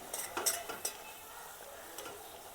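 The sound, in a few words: stirring gram flour in a pan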